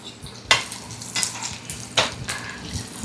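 Urad dal vadas deep-frying in hot oil over a high flame, with a steady sizzle and sharper bursts of crackle and spatter as the batter hits or is moved in the oil.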